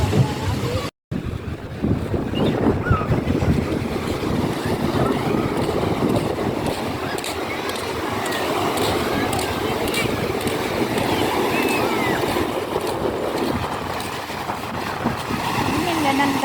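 Small ocean waves wash steadily at a San Diego beach, a continuous surf wash mixed with wind buffeting the microphone, with a brief dropout near the start.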